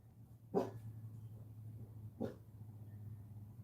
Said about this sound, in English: Chelsea, what are you barking at?